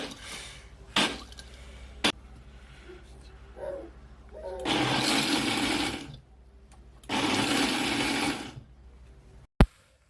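A kitchen blender grinds dry beans in two long loud bursts, with a few short pulses and knocks between them.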